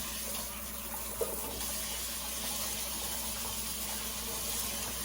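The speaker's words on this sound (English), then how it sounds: "I'm gonna rinse them with cold water" Cold tap water runs steadily over homegrown potatoes in a kitchen sink, a constant rushing hiss with no talk.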